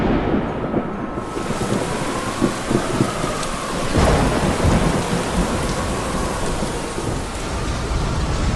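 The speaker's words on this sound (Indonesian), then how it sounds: "Hujan deras mengguyur bumi" Heavy rain pours down steadily with rumbling thunder, with no voices, as dark clouds hang over green pine trees. The downpour is loud and continuous and swells briefly around the middle.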